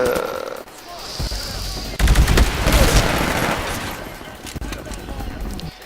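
Gunfire from the Titanfall video game: rapid, loud bursts of automatic weapon fire that grow dense after a brief lull, continuing steadily with clattering shots over game noise.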